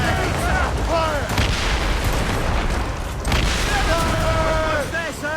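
Ship cannons fire in a naval battle in Assassin's Creed Rogue, a dense run of heavy booms and blasts under shouted crew voices and battle noise throughout.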